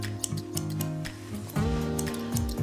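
Grooming scissors trimming a Bichon Frise's coat around the neck, a quick series of sharp snips and ticks close by, with faint hum underneath and no speech.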